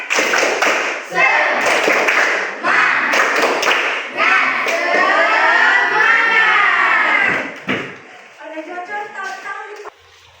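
A classroom group performs the 'tepuk semangat' clap game, with loud rhythmic hand claps mixed with voices chanting along in unison. The clapping runs in bursts, and the chanting fades into scattered quieter voices at the end.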